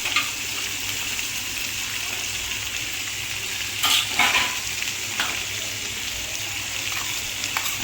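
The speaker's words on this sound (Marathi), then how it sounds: "सगळ्याला व्यवस्थित फ्राय करून घ्यायचं।" Tomatoes and soaked cashews frying in a pan with chopped onions, a steady close sizzle with occasional stirring scrapes and brief clinks throughout.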